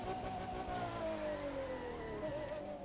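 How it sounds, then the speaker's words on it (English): A Ferrari F12 Berlinetta accelerates in the racing game The Crew 2, its engine note rising steadily through a long rev, fairly quiet and continuous. "And you can hear how this car accelerates."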